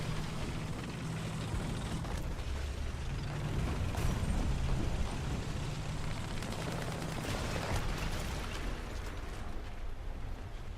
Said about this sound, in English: Saw machine gun fire, but there's so much smoke I can't tell where it's coming from.